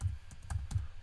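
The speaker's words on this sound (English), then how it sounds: "I'm gonna type" Typing on a computer keyboard during 3D camera tracker text setup: a short run of soft, uneven clicks, several distinct keystrokes in about a second, close and moderately quiet with no talking.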